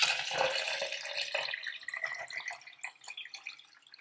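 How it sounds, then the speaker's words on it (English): Lukewarm water poured into a large container, a faint, trickling splash with irregular drips and bubbling that tapers off over a few seconds. "And then we need to add 3 cups of lukewarm water."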